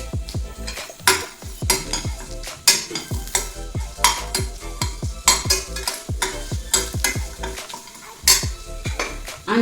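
Spices with fenugreek and curry leaves frying in a pan, a loud sizzle under brisk, rhythmic scraping and stirring strokes of a utensil, close up and with no talking.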